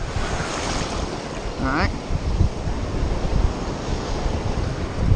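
Strong wind gusts over open water during fly casting, a rough, steady rush buffeting the microphone, with a short spoken phrase partway through.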